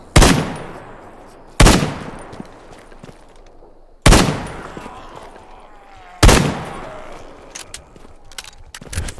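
Four sharp, loud shots at roughly two-second intervals ring out with long decaying tails, gunfire aimed at zombies in the video game STALKER, with no voices over them.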